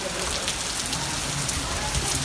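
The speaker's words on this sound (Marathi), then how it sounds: "पावसाची रापाटी जोरात चालू आहे" Heavy rain pours down in a dense, loud, continuous roar of drops hitting a surface, with no talking.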